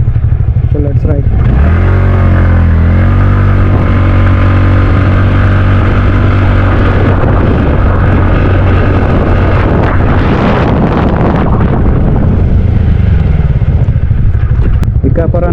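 A TVS Ntorq scooter, Virat Kohli edition, being ridden: a loud buzzing engine climbing in pitch as it accelerates, then steady running under heavy wind buffeting on the microphone.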